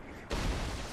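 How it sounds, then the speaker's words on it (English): Cannon fire in a video game lands as a sudden heavy boom about a third of the way in, followed by a loud sustained low rumble with no voices. "I still hear cannons firing."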